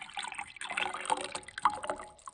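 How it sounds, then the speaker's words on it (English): Warm coconut water poured into a bowl, a steady close liquid trickle and splash lasting a couple of seconds with no talking. "Next, pour half a cup of warm coconut water into another bowl,"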